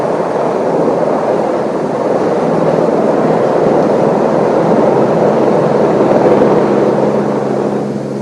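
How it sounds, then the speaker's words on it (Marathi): A helicopter flies over a memorial shrine and showers flower petals onto it, making a loud, steady rotor roar and engine drone that stays level the whole time with no voices. "भारतरत्न डॉक्टर बाबासाहेब आंबेडकरांच्या समाधीवर हेलिकॉप्टरने पुष्पवृष्टी आता करण्यात येत आहे."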